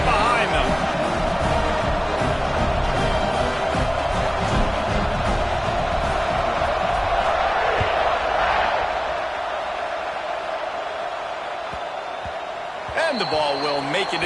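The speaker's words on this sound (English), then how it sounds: "They're set to kick it off, and this crowd now ready to get behind them" Large college football stadium crowd at an Alabama versus Auburn game just before kickoff, a loud steady roar with bursts of cheering throughout, thinning slightly near the end while a commentator talks over it.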